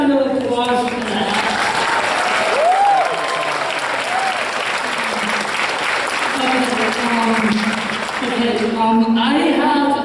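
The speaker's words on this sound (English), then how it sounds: "Let's give a round of applause for that." An audience at a talk on stories and experiences applauds, with steady crowd clapping throughout and a voice talking over it in places.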